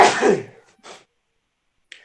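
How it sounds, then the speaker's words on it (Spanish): A single sharp sneeze bursts out close and loud at the start during an online math class, followed by a faint trailing sound and then near silence. "se me ha estornudado"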